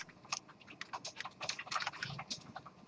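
Fast typing on a computer keyboard: a quick, uneven run of close, crisp key clicks, continuous and with no voice over it.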